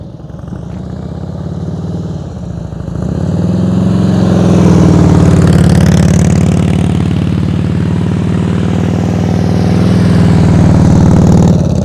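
A motorcycle engine revs during slow-speed riding practice, loud and close, climbing after a few seconds into a sustained, steady throttle drone that holds to the end.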